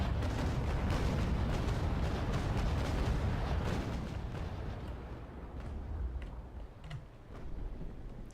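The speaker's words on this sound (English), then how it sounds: "While I don't like firing at this angle, it's pretty much the perfect opportunity." Cannon broadside from a sailing warship in the Naval Action naval combat game, a dense rolling rumble of heavy booms that is loudest at the start and fades into a lingering low roar.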